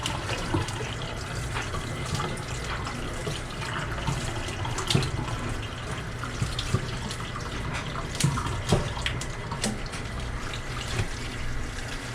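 Steady, close running water from a tap rinses a neon spiral tie-dye cotton-poly towel, a continuous splashing rush with small irregular splatters and no talk.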